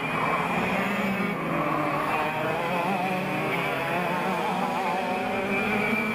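Racing karts roar past on a track at a Singapore Karting Championship senior race, a dense continuous engine drone with overlapping buzzing motors, loud and steady throughout.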